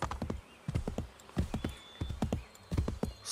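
Horse hooves clip-clopping in irregular clusters of close, sharp strikes, with a brief whinny, from a saddleless horse moving through a forest in Assassin's Creed III.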